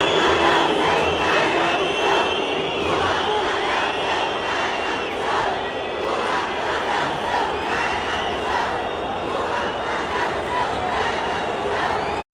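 A carnival crowd at the Sapucaí sambadrome boos and chants in unison against Lula. The mass of voices is loud and steady throughout, with rhythmic chanting over a dense roar of cheering.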